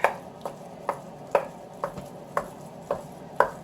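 Ground beef being broken up and stirred in a crockpot lined with aluminum foil, about eight evenly spaced scraping taps from a utensil close by, with no talking.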